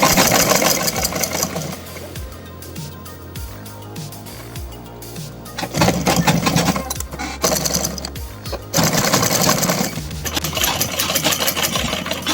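Sewing machine stitching a kurta neckline with a double row of stitches, loud whirring bursts of rapid stitching that stop and restart, with quieter pauses between runs.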